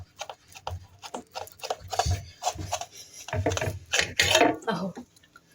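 A knife cuts through layered pastry dough for meat and cheese pies with a series of scraping, rasping strokes, close and uneven in rhythm, with no talk over them.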